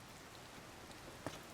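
Soft, steady rainfall in Gerudo Canyon in The Legend of Zelda: Tears of the Kingdom, a faint, even patter with one slightly sharper drop or tap near the end and no voices.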